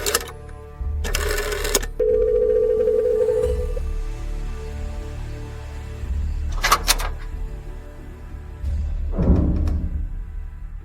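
A telephone rings in short bursts, two separated rings with a sustained tone between, followed by clicks and a brief rattle, set in a Doctor Who audio drama.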